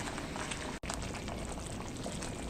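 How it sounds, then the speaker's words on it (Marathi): A bottle gourd vadi mixture boils in a pan, throwing up white froth. The bubbling and popping is close and fairly loud, with a very brief break near the start. "ह्याला आता छान उकळी आली आहे आणि पांढरा फेस यायला सुरुवात झाली आहे"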